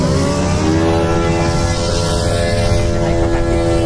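Four-stroke engine of a large-wing 3D aerobatic model airplane runs in a steady, loud, close drone with a rich buzzing tone that holds constant throughout, with no talk.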